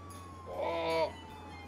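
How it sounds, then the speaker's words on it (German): Police car siren in the video game Contraband Police, a wailing tone that rises and swells near the middle of a short stretch, then falls back over a low engine hum. "Leicht nervig, die Sirene."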